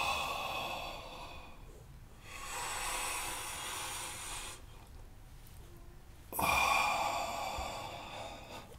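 During a yoga session, a person exhales deeply and audibly, long breathy sighs coming in slow waves with pauses between, close and alone.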